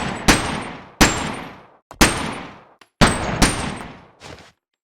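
Four sharp, loud gunshots from an ordinary handgun in the VR game Boneworks, spaced about a second apart, each with a short ringing decay, followed by a fainter mechanical clack.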